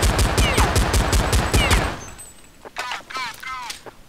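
Counter-Strike 1.6 gunfire: a rapid, loud burst of about a dozen evenly spaced rifle shots, followed by quieter scattered shots and metallic clinks.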